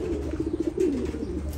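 A young pigeon gives a short series of soft, low coos at close range, ending in a brief drawn-out call over a steady background noise.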